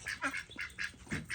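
Farm ducks quack in short, repeated bursts, several calls close together at moderate distance, fairly soft with no talking over them.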